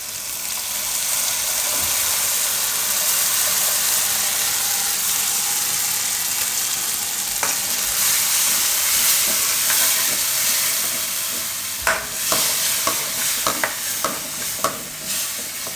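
Kadhi being poured into a pan and stirred for a Gujarati kadhi chana, a steady broadband sizzle and wash throughout with occasional sharper spoon knocks near the end, no talking.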